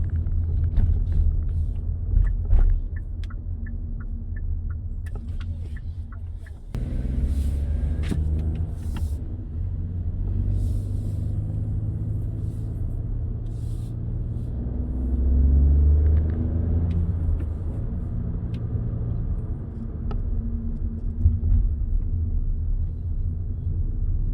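A Hyundai Bayon small car driving through narrow streets, heard from inside as a steady low engine and road rumble that swells briefly, with no talk over it.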